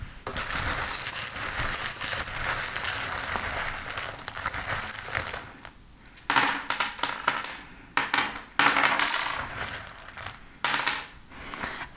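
Small metal charms drop and scatter onto a surface for a weekly reading, giving a burst of bright jingling clinks, then a few separate taps and rattles as the pieces settle.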